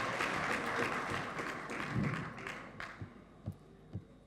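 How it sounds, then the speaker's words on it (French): An audience at a public event applauds, a dense wash of clapping that fades over a few seconds into a handful of isolated claps or thumps. "Est-ce qu'on peut applaudir pour les courageux?"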